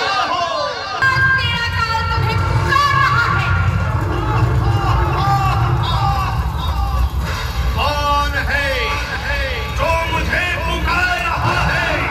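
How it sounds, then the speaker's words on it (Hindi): Dense crowd hubbub at a Durga Puja pandal in Muzaffarpur, steady loud babble of many voices with shouts and chatter throughout, close and continuous. "बहुत ज़्यादा भीड़ है"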